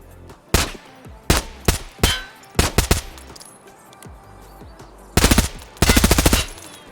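Gunfire from an HK rifle in the video game Escape from Tarkov: several single shots and short bursts, then two longer rapid automatic bursts, loud and close with no talk.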